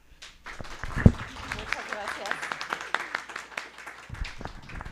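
An audience at a seminar breaks into scattered, light applause, modest clapping that carries on under a speaking voice.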